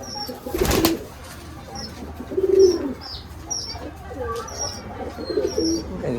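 Giribaj pigeons kept in a loft coo in low repeated murmurs, with bright chirps from other birds and a short burst of noise early on, all fairly close.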